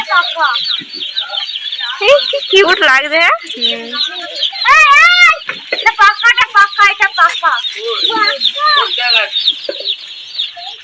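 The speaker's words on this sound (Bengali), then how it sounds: "পোলট্রি ফার্মের ছোট ছোট বাচ্চা মুরগি দেখতে" Many young chickens chirp and cheep busily in a dense, continuous chorus at a poultry farm, with occasional louder clucks standing out close by.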